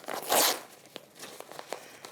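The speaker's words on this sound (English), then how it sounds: "All you need to do now with these blocks is just remove the stabilizer. So tear that off the back" Tear-away embroidery stabilizer is ripped off the back of a machine-embroidered appliqué block, starting with a loud, close tearing rip and followed by several smaller crackling pulls.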